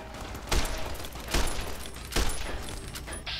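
Three evenly spaced, loud gunshots from a varmint rifle in the Fallout: New Vegas video game, each a sharp crack, set against constant in-game ambience.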